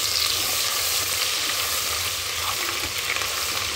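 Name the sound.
ginger and garlic frying in oil for egg biryani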